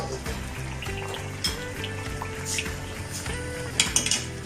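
About 1.25 kg of large chicken pieces fry in masala for aloo gosht curry, sizzling steadily and up close while a utensil scrapes and clatters in the pot, with occasional sharper knocks near the end.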